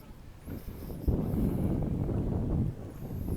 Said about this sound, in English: the wind started to pick up a little bit